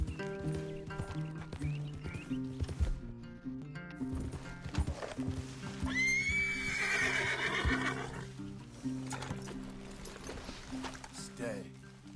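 Horses in Red Dead Redemption 2 whinny loudly around the middle while hooves clip-clop and shuffle nearby, with game music and voices talking throughout.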